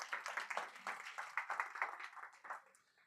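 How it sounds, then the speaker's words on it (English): At an Aging Matters community education event, an audience gives a faint, dense round of applause for a speaker's son, a steady patter of many hands that tapers off toward the end with no talking. "give him a round of applause for his help"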